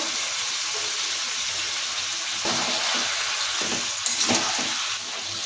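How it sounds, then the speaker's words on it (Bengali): Chicken and elephant foot yam sautéing together in a pan give a steady, close sizzle, with a few louder stirring scrapes toward the end. "মাংস আর ওল একসঙ্গে কষবো।"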